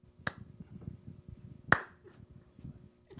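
Two crisp, isolated snaps or single claps ring out about a second and a half apart, sharp and close, above a low murmur of background voices.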